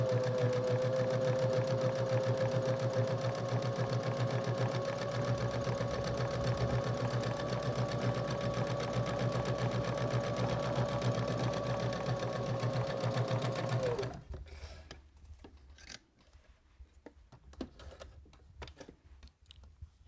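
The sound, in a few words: sewing machine stitching a luggage tag strap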